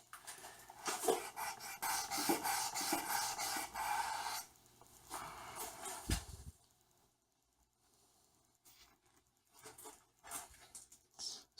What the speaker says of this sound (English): So 700 grit's going to take this down pretty quick.